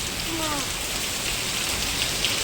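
Continuous heavy rain in Siddhpur hisses steadily, loud and close, with no voices.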